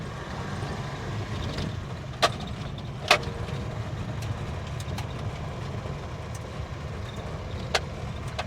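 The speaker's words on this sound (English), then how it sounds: "This is one rattly old truck." A 1973 Toyota Hilux truck driving along with a steady low engine rumble, broken by a few sharp clanks and rattles from the old cab and body, with no talk.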